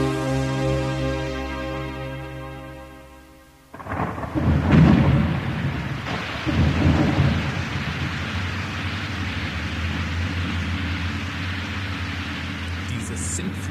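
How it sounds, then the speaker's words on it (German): A torrential thunderstorm pours heavy rain in a dense, hissing wash, with a deep rumble of thunder rolling in after a few seconds, following a fading tonal passage at the start. "Dieses sintflutartige Unwetter passt mir genau in den Kram."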